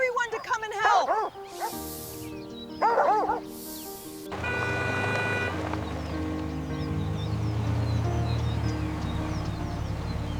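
A German Shepherd being constricted by a giant python yelps and whimpers in sharp, rising bursts, loud and close, followed by a steadier noisy stretch as people talk urgently.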